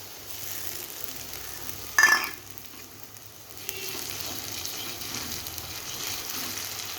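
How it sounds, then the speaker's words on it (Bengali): Onion with ginger-garlic paste sizzles steadily in a pan for a tomato chicken curry, with a brief louder burst of sizzling as something is stirred or added early on, then a quieter, even fry. "পেঁয়াজটাকে ভেজে নেব। আদা রসুন পেস্ট দিয়ে দিব।"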